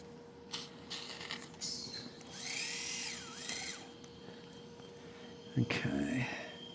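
A power driver whirs in short bursts as it drives screws during femur fracture surgery on a dog, with faint rustling and quiet voices in the operating room.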